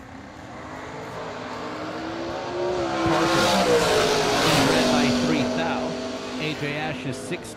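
Sean Parker's dragster from Michigan making a drag racing run: a steady engine roar that swells to its loudest midway and then eases off, with a voice faintly in the background.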